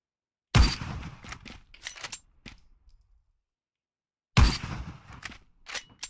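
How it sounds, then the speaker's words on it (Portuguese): Two sharp bursts of rapid gunfire in the video game Knives Out, each a loud crack followed by a short rattling trail, separated by a few seconds of silence. "Tiro da direita."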